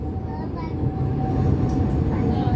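Inside a moving tram, a steady low rumble and rolling drone fills the space, with a faint tonal whine riding on top and people talking beneath.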